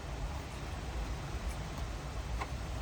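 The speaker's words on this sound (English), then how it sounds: "So windy, the entire Jeep is shaking." Steady broadband rushing noise with a low rumble and faint ticks, strong wind buffeting and shaking a Jeep Wrangler, heard from inside, constant and close.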